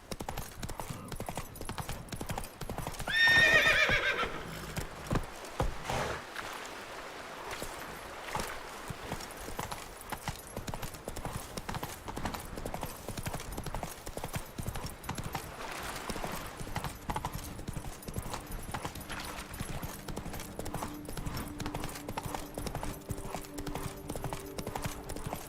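Roach the horse from The Witcher 3 galloping, a steady run of hoof clip-clops over game ambience and music, with a brief louder burst early on.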